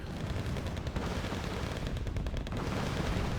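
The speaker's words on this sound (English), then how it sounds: "30mm cannon." Rapid 30mm cannon fire in the strategy video game Wargame Red Dragon sounds as dense, continuous bursts of booming shots over a heavy low rumble, loud and unbroken throughout.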